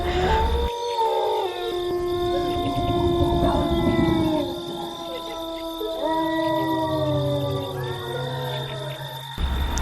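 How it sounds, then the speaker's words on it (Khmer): Several village dogs howl in long, wavering tones that rise and fall together, a drawn-out chorus with a steady high whine running underneath. "ឆ្កែនៅក្នុងភូមិក៏ចាប់ផ្ដើមលូ"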